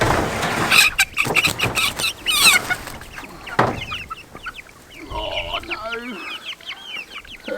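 Young chickens in a cage cluck and squawk close by in a busy, overlapping flurry, with some handling noise and brief faint talk mixed in.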